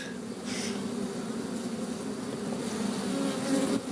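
Honey bees buzz steadily over hive frames with brood during a hive inspection, a close, continuous hum holding level throughout with no talking.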